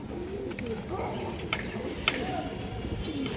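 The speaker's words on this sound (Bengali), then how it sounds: "মাশাআল্লাহ অনেক সুন্দর কবুতর" Pigeons of fancy breeds such as army, silver and high flyer coo softly and repeatedly in a loft, with a few sharper wing or call accents over a steady background murmur.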